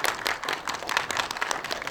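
Audience applause for a new board member candidate at the December 2024 annual general meeting of the Korea Virtual Human Industry Association, a steady, dense patter of many hands clapping throughout, moderately loud and close.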